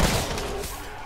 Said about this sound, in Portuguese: é só dar um tiro em cada um que eles cancelam a animação de atacar.